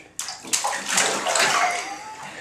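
Bathwater sloshes and splashes as a small child smacks the water in a bathtub, starting with a sharp slap and continuing as close, busy splashing and gurgling.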